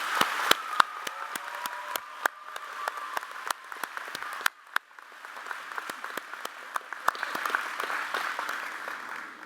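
A graduation audience claps at a commencement, with dense, steady applause and sharp individual claps standing out throughout, fairly close and sustained.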